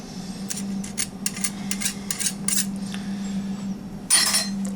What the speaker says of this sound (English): Okay, and then you just keep whisking. Get all this incorporated into the egg mixture.